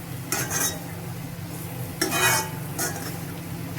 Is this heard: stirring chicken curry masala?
yes